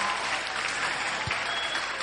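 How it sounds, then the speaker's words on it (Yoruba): Students and guests at a Mother Language Day celebration at Messiah High School, Akure, applaud in steady, even clapping that continues throughout without pause. "Ẹja fúnra ní àtẹ́wọ́"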